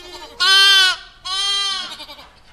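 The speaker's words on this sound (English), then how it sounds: "Blake whipped around to see a goat standing in front of the porch where he'd just been" A goat bleats loudly twice up close, the first call short and sharp and the second longer and wavering, trailing off into softer sounds.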